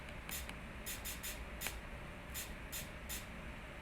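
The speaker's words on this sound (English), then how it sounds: "I added this shaker as well." Shaker in a lofi beat plays a quiet, uneven pattern of short airy hissing bursts, about eight hits heard alone in a soft, low-level mix.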